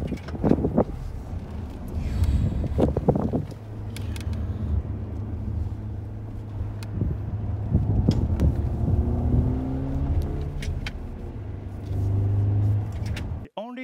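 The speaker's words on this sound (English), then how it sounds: "to experience all the sensations of a manual transmission vehicle, including the possibility to stall, to roll back on a hill start if the clutch is not engaged, and of course, engine sound." A Lexus UX 300e electric car fitted with a manual gearbox, clutch pedal and gear lever plays a simulated combustion engine sound, a droning hum that rises and falls through revs and gear changes, with wind noise and a voice talking over parts.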